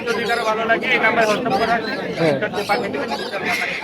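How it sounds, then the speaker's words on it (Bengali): Many birds of various breeds chirp, coo and chatter together in a dense, continuous din at the Mirpur 1 bird market in Dhaka, with people talking underneath. "বিভিন্ন জাতের পাখি আছে"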